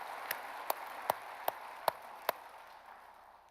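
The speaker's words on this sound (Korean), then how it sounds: "박수합니다." A church congregation at a revival service in Daegu claps in unison: six evenly spaced, crisp claps that sound faint and distant, then a quiet hall.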